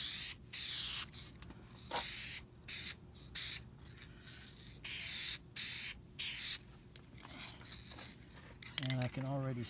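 Aerosol brake cleaner hisses in about eight short, loud, close bursts with brief pauses between them, sprayed around the edges of a Chevrolet badge being modified; a voice speaks briefly at the very end.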